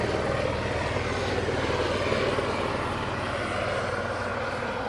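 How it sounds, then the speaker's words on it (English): A helicopter flies overhead as a steady, loud, broadband engine and rotor rumble that holds evenly throughout with no talking. "Helicopter."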